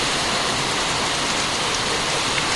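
Mild rain falls steadily outside a house, an even, dense hiss of drops on surfaces that stays constant and fairly soft throughout.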